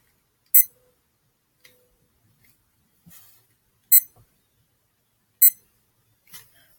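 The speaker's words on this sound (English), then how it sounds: "we can start our timer here" A digital notebook's reading timer gives short, sharp electronic beeps, three bright chirps spaced about one and a half seconds apart, with faint clicks and handling noises between them in an otherwise quiet room.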